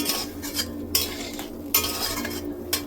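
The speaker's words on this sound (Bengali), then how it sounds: "তার জন্য আলুগুলো এবার ভেজে নিয়ে নিই প্রথমে" Small new potatoes frying with spices in a pan for a Bengali rohu fish curry: a steady close sizzle under repeated metal scrapes and clinks of a spatula stirring against the pan, with no talking.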